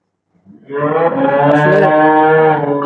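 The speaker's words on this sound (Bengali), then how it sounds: "প্রত্যেকটা গাভী চিল্লা চিল্লি করতেছে একটু দোয়ানোর কারণে" Holstein Friesian dairy cows moo loudly during milking, a single long, sustained bellow that swells in after a short quiet start and holds steady to the end, close and clear with no voices.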